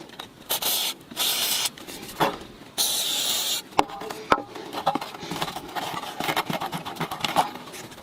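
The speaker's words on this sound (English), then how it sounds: "we use penetrating oil, because of the years we don't take a chance" Penetrating oil sprays onto the screws of a side mirror on a Mercedes-Benz W123 in several short close bursts, followed by clicks and handling of the mirror parts.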